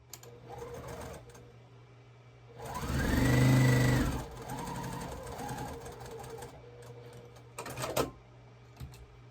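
A sewing machine stitches a quilt block square, with a loud, steady whirring run of a couple of seconds that slows and trails off, followed by quieter handling noises and clicks.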